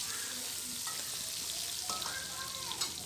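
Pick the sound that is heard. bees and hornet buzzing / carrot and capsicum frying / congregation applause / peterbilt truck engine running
carrot and capsicum frying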